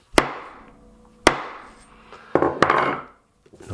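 A hole punch is slammed down to cut a grommet hole in silpoly fabric, giving three or four sharp hard knocks with short ringing decays, close and loud, no talking.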